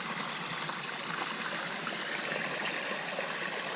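Spring water trickles and burbles through a small woodland stream in a steady, continuous wash of fine watery texture, close by and alone with no voices.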